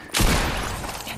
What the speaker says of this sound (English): Here, we got shot at.